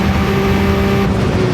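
A Porsche 956 race car screams at high revs on the Nürburgring in a racing video game, a loud, sustained engine note with a steady pitch and no voices.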